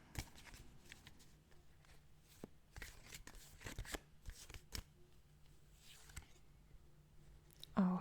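A tarot deck being handled and a card drawn, giving soft close card slides, taps and flicks in an irregular scatter, quiet against a low background hum, with a brief louder rub at the end.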